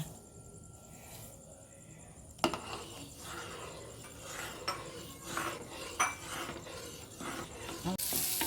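Shallots being sautéed in ghee in a pan, with a metal spoon clinking and scraping against the pan in bursts over a soft background hiss, close and moderately loud.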